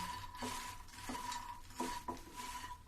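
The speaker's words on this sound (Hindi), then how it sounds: "मखाना मैं डाल देती हूँ और धीमी गैस में मैं भूंजूंगी" Makhana (fox nuts) stirred and dry-roasted in a pan over low heat, soft rattling scrapes of a spoon against the pan in a few separate strokes, faint and close, with a steady hum behind.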